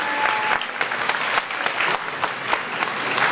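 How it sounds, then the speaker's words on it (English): Audience applause at a school highest honors ceremony, a steady dense wash of many hands clapping from a crowd, continuous for the whole stretch with scattered louder claps. "Clap once more for her"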